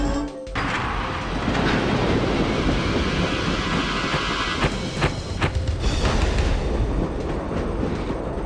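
Steady rolling rumble of a train ride in the PS1 horror game Trick or Treat, a continuous low clatter with wind-like hiss after a brief dip at the start, no voices.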